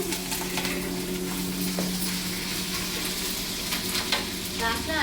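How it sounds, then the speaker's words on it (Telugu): Oil tempering with mustard seeds, cumin and dried red chilies sizzles steadily as ginger-garlic paste is stirred in for mango pickle, a close continuous crackle with soft scraping strokes and no talking. "లాస్ట్లో అల్లం వెల్లుల్లి పేస్ట్ యాడ్ చేస్తున్నాను"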